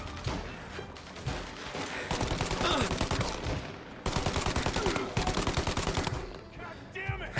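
Rapid automatic gunfire from Mafia: Definitive Edition, a gangster shooter, fires in long sustained bursts with brief pauses, loud and close, mixed over game ambience.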